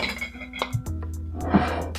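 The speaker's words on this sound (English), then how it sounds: "And then I just add a couple ice cubes to keep it nice and cold." A couple of ice cubes clink into a glass of homemade mango black tea, giving brief bright knocks close by in a quiet kitchen.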